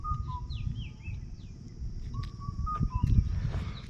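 Songbirds call in Indian forested hills, several clear whistled notes and short chirps rising and falling at a moderate distance over steady low outdoor rumble.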